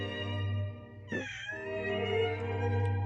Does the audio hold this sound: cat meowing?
yes